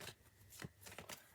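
Cards are shuffled quietly in a few quick riffling bursts, close and soft, with no talking.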